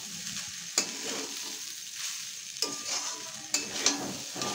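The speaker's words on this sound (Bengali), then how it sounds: "তো এইভাবে আমি একটু ভালো করে মিশিয়ে নিচ্ছি।" Egg fried rice is stirred in a pan over a low gas flame, giving soft scraping and turning sounds over a gentle sizzle. A few sharp spatula clinks stand out close by, with no talking.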